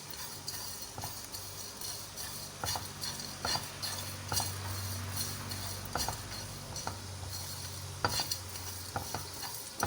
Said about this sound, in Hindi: चूल्हे पर मैंने एक पैन रख लिया है, उसमें मैंने 1 टेबल स्पून मैंने ये गरम मसाला है और 1 टेबल स्पून खुश्क धनिया है, ये मैं रोस्ट कर लूँगी।